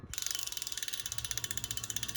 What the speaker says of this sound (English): So that's the Freehub sound.